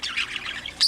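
A pet bird in a breeding aviary's flight lets out a few short, bright squawks and chirps close by, ending in a louder squawk, with no talking.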